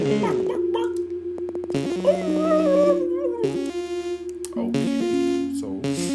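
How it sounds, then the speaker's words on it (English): A dog in a video game gives drawn-out howls and whimpering yips, loud and close, rising and falling in pitch over a sustained musical drone. "Is that a dog?"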